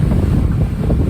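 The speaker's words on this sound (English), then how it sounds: "we have one engine going, and the sails are kind of putting in for the rest of that power" Sailboat under way at sea with one engine running and sails up, a steady low rumble mixed with wind buffeting the microphone and water rushing past, loud and continuous with no voices.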